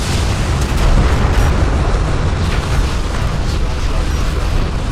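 Explosion of destroyed hostile armor in the Deserts of Kharak real-time strategy game, a loud sustained rumbling boom with dense low-end noise lasting throughout, under continuous game audio.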